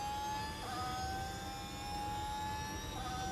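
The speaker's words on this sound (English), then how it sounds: "I think we hear Gasly's car here." A Formula 1 car engine from the F1 Manager 2023 racing game at the Bahrain Grand Prix drones in a steady high whine, faint and jet-like, holding pitch through the stretch with small dips.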